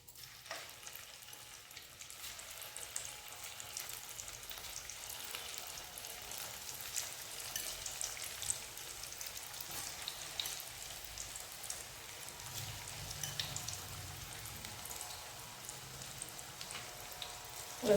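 Pori 65 batter deep-frying in hot oil: a steady, dense sizzle and crackle that fizzes continuously like rain, with no voices.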